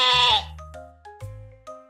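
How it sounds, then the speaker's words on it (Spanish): Sheep bleating, a few short wavering calls one after another with brief gaps, close and clear with no other sound around them. "Este es el sonido que hace la oveja."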